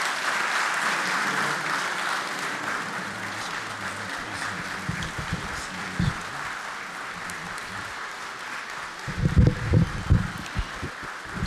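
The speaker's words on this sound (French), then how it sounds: "Sous les applaudissements de l'ensemble des députés et des personnalités présentes." Sustained applause from deputies and invited dignitaries fills a national assembly hall at a formal closing ceremony of the ordinary session in Côte d'Ivoire, steady throughout with a few louder low thumps near the end.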